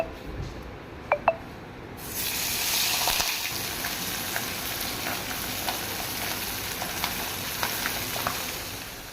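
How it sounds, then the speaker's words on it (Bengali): Fish rubbed with salt and turmeric frying in a pan, a constant close sizzle with scattered pops, preceded by a couple of sharp electronic beeps. "এখন মাছ ভাজবো নুন হলুদ মাখিয়েছে"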